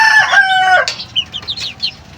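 Mother hens cluck close by, a few bright, drawn-out calls followed by a string of short, choppy clucks, fairly loud and with no talking.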